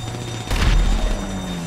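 A gas cylinder explodes in the GTA video game, a short, heavy boom with a rumbling low tail, heard amid continuous game engine noise.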